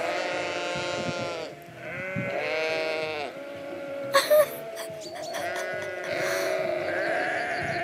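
A flock of sheep bleats loudly and repeatedly, with long wavering calls overlapping one another, broken by a brief sharp knock partway through.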